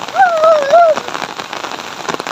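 Rain pours steadily on surfaces outdoors, a dense close patter throughout, with a brief voice or call rising over it near the start.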